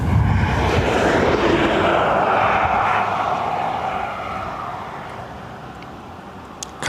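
A Ryanair jet coming in at Dublin Airport, a loud rushing engine roar close by that gradually fades away over several seconds.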